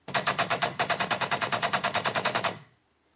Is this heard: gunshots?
yes